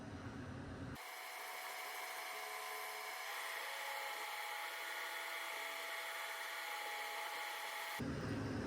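An Epson V1070 UV printer lays a white layer onto acrylic, its print head carriage whirring in a steady mechanical hum with shifting stepped tones, starting and stopping abruptly at either end.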